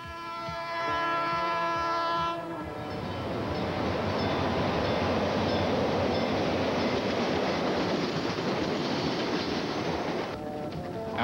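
A first-generation diesel train, likely EMD units on a Chicago commuter line, rumbles past with a droning engine tone that gives way to loud, steady rolling and clatter, then eases off at the end.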